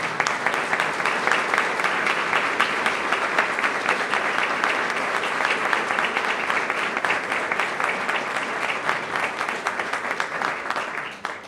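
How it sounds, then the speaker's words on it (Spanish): Warm, steady welcoming applause fills a university hall for a new rector's installation, dense clapping from a large crowd sustained evenly for about eleven seconds before tapering at the end. "Le vamos a tributar un fuerte aplauso de bienvenida."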